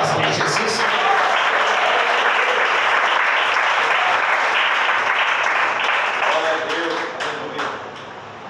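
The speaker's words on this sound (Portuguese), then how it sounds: "A igreja bate palmas para Jesus." Church congregation clapping for Jesus, dense sustained applause from a full room that thins toward the end, with voices faintly mixed in.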